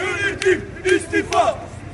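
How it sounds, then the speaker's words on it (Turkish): Football supporters chant in rhythmic unison during a protest march, a crowd of voices shouting short repeated bursts roughly every half second, fairly close and loud. "tezahüratlar eşliğinde protesto eden taraftarlar yönetimi istifaya davet etti"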